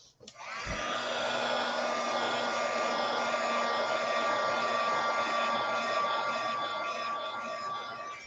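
A hair dryer switches on with a click and runs at a steady whir, close by and moderately loud, for several seconds before cutting off.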